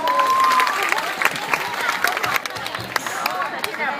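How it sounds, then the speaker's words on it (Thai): A crowd claps and cheers with dense, irregular applause, with voices and chatter mixed in throughout. "แล้วก็เสียงปรบมือเนยครับ"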